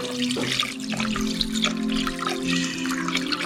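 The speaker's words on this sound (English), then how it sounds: "I'm just gonna add this to the brine here." Water sloshing and trickling in a bowl as a marsh hen is lowered into a brine of regular salt and four cups of water, close and moderate, with soft liquid splashes throughout.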